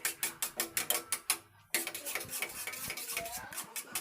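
A spoon beats egg and masala in a bowl, rapid rhythmic clinking strokes against the bowl, pausing briefly before resuming with quicker, busier scraping and tapping.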